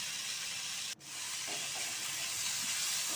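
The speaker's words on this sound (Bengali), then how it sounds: "ফ্রাই প্যানের মধ্যে অল্প সামান্য তেল দিয়ে আদা, কাঁচা লঙ্কা বাটাটা দিয়ে একটু নেড়ে চেড়ে" Ginger and green chili paste frying in a little oil in a frying pan: a steady, loud broadband sizzle that is briefly cut near one second, then carries on continuously with no talk.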